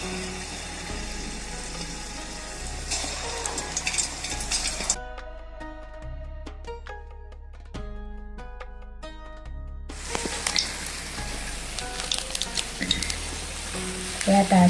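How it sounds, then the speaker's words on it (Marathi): Gulgule sweet batter frying in hot oil, a steady close sizzle that drops away to quieter bubbling midway and then comes back; light clinks of utensils, no talking. "गुलगुले तळून घेऊया."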